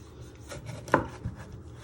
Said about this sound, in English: then you chop them both into half